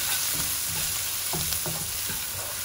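Onions and turmeric powder fry in a pan, a continuous close sizzle broken by a few soft stirring scrapes, no voices.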